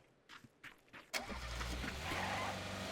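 A car engine starting in PUBG: a few soft footsteps, then a sharp ignition catch and a steady, rising engine rumble that holds close and loud to the end, with no voices over it.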